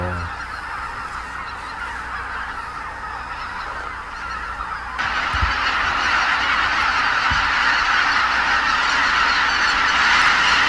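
A large flock of white-fronted geese flies noisily overhead above a reservoir in Gangwon Province, a dense continuous chorus of honking that swells louder about halfway through and stays loud, with no speech.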